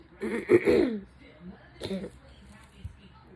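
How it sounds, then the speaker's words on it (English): A person clears their throat with a couple of short, raspy rumbles, followed by a softer second clearing and a faint click, close to the mic. "Excuse me, keep clearing my throat."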